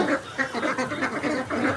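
Ducks on a duck farm quack loudly and close by in a rapid, repeated series of nasal calls that overlap throughout.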